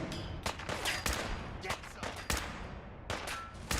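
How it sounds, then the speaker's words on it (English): Gunfire in the video game Fallout 4, a rapid series of sharp cracking shots in uneven bursts, some close together, fairly quiet throughout with a voice talking faintly. "How do you feel about some gunshots to the face?"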